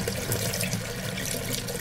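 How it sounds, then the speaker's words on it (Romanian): Water runs steadily from a tap in a Romanian radio play, a continuous close hiss and splash with no talk over it. "N-ați vrea să dați puțin drumul la robinet?"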